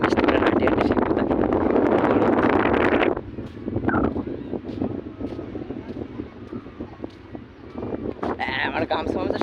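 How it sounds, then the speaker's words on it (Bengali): Strong wind at Bakkhali beach buffets the microphone in a loud, roaring rush for about three seconds, then eases to a gustier, quieter blow with faint voices in the background. "কেমন হাওয়া তো বুঝতেই পারছো, আওয়াজ তো মানে শুনতেই পাচ্ছ কেমন হাওয়া"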